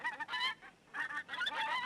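Ducks in an open field quack and honk in loud, close bursts, with a brief quiet gap between two rounds of calling.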